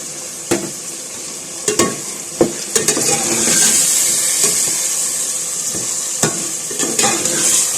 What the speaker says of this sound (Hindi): आप देख सकते हैं चिकन और सब्जियां भून ली हैं मैंने अच्छे से।